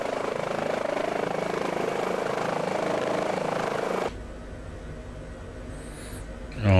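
Airbus H145 helicopter in Microsoft Flight Simulator during a North Sea medevac mission: a loud, steady rotor and turbine drone that drops abruptly to a quieter, duller hum partway through, with no talk.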